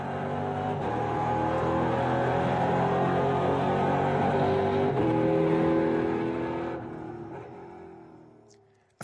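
A NASCAR race car running flat out on a lap of the historic Zolder circuit in Belgium, its engine holding a loud, sustained high-revving roar before easing off and fading near the end.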